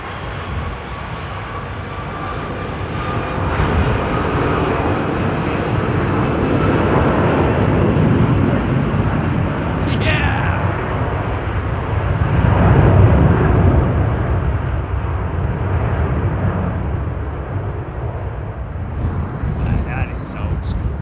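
Airliner with Rolls-Royce Trent 700 engines taking off at London Heathrow, a loud broad roar that builds and swells over about twenty seconds, peaking midway and staying powerful, with a voice talking over it.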